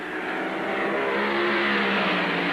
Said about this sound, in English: They come out snorting, ready to jump on the start.